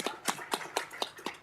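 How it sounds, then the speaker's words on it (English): A handful of sharp handclaps at a city council meeting, about six in quick, even succession, close and fairly quiet rather than a full crowd roar. "One more round of applause, please."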